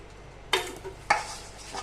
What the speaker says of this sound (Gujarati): એક સરખો લોટ બધાને મિક્સ કરી દેવાનો છે.